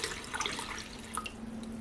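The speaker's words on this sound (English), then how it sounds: "Now I'm going to add twice as much water as rice." Water pours onto forbidden rice inside a Dash mini rice cooker, a steady, close, quiet trickle and splash that lasts under two seconds with small dripping accents.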